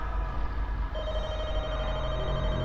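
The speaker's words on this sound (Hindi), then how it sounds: "अच्छा फोन, फोन आया," A telephone rings in The Walking Dead video game, a steady electronic ring over a low game backdrop, with no talk.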